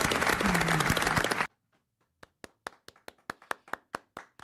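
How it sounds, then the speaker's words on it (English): After a burst of loud, dense noise cuts off abruptly, a short pause gives way to a sparse, slow run of about a dozen light, separate hand claps, a deliberately thin and polite golf clap. "Golf clap, everybody. Golf clap."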